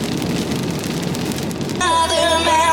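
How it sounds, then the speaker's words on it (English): Heavy rain pours down outside in a steady dense hiss that stays loud throughout, with a brighter electronic tone joining partway through. "It is raining so hard outside."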